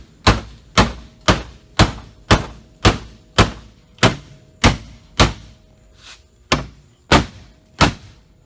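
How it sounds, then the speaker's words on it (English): Big hammer pounding metal in a fab shop during work on a Nissan 240SX: about fourteen heavy, evenly spaced blows ringing out one after another, loud and near, with no talking. "My favorite tool, big hammer."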